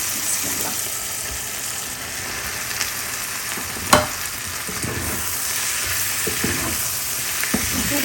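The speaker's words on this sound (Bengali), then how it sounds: "সুন্দরভাবে এপাশ ওপাশ করে শাকটা চিংড়ি মাছ আলু মশলা সব কিছুর সাথে মিক্স করে নিতে হবে" Pumpkin greens stir-fried with shrimp, potatoes and spices in a pan, with a continuous sizzle under repeated stirring and tossing scrapes and one sharp utensil clack midway.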